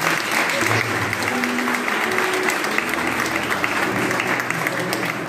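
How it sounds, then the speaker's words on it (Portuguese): A church congregation at a baptism service applauds steadily for several seconds, a dense, loud wash of clapping from a large crowd with faint voices mixed underneath. "Vamos receber uma salva de palmas."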